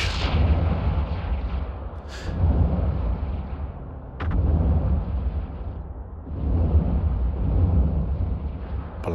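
Ship weapons firing in the space game EVE Online: a steady rumble of repeated heavy booming blasts, with louder bursts around two, four and six seconds, and no talk.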